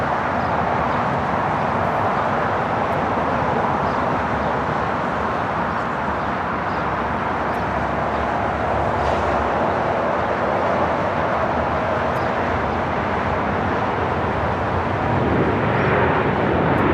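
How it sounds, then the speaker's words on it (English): A Boeing 787 Dreamliner rolling down runway 25 Right at Los Angeles International Airport makes a loud, steady broadband jet roar and rumble that stays constant for the whole clip and carries no voices. "got the all Dreamliner rolling down at 25 right"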